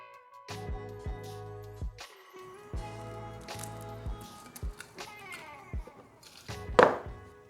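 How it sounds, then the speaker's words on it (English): A knife roughly bruises garlic cloves on a cutting board, producing a series of close, dull chopping thuds and taps in an uneven rhythm. A brief higher squeak follows near the end. "I'm also adding about a half a dozen cloves of garlic, which I'm just going to roughly bruise with a knife"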